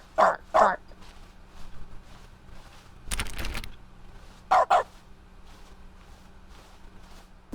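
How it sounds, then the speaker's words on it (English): Dog barking in The Stanley Parable Deluxe, two pairs of loud, sharp barks heard close and spaced apart, with a short burst of rumbling noise between them. "Bark, bark, bark, bark."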